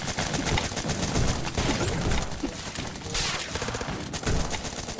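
Sustained rapid gunfire in the video game ZombsRoyale, shooting at a crystal: dense, loud automatic bursts that fill the whole stretch, with a brief glassy shattering hit partway through.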